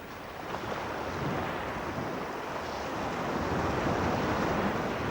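Bigger sea waves on a really windy day, a continuous roaring surf mixed with gusting wind that builds gradually over the stretch, loud and unbroken, with no one speaking.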